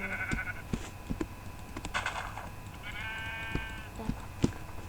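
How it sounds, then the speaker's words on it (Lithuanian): Sheep in the Minecraft video game bleat in short wavering calls, with a few scattered clicks and taps of gameplay alongside and no talking. "Avis."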